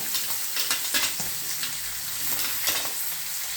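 Mixed vegetables for bhogi bhaji, with broad beans, eggplant, chickpeas, peas, peanuts and carrot, frying in a hot pan with sesame, a continuous sizzle broken by scraping stirs and soft clacks of a spoon, close and without speech.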